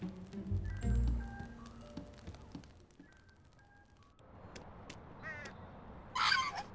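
A bird caws a few times in the video game Elroy and the Aliens, short harsh calls near the end of the clip after scattered game sounds and a quieter stretch.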